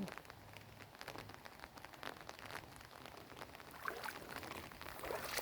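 Steady rain patters on a surface, a dense crackle of drops that grows slightly heavier toward the end, with no talking.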